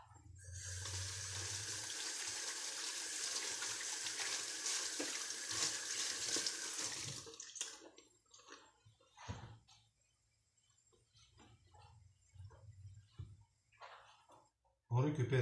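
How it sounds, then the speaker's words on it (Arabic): Tap water runs steadily in a home kitchen sink during handwashing for about seven seconds, then stops and leaves intermittent splashes and handling noises, with speech in the background. "نغسل يدينا كالعادة."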